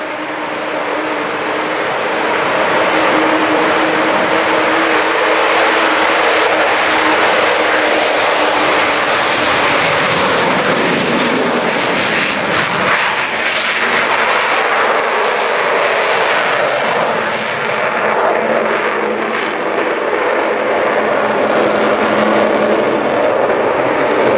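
An aircraft named the Spirit of Great Britain flies past at roughly 300 knots during an air show at Yeovilton. Its loud, steady jet roar fills the whole stretch and swells slightly as it passes.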